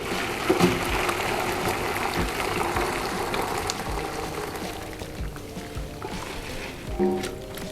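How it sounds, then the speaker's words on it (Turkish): Spiced brine water strained into a deep gastronorm pan in a kitchen, giving a steady wash of pouring, splashing liquid with occasional clinks of metal, moderately loud and close throughout. "Suyumu süzerek derince bir gastronoma alıyorum."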